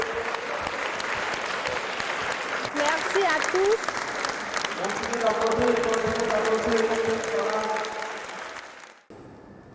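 An audience applauds in a steady, dense wash of clapping through most of the stretch, with a voice speaking over it before the clapping cuts off near the end.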